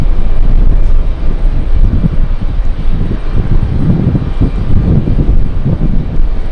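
Boeing 777 taxiing at JFK airport, a loud continuous low jet engine rumble with wind buffeting the microphone, steady and fairly close, with no voices.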